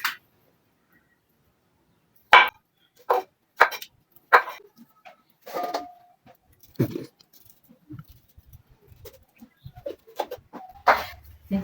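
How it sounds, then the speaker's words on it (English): A knife chops onions on a board for beef pilau, giving sparse, sharp, separate cuts with quiet gaps between them and faint background noise. "We are cutting the onions for our rice."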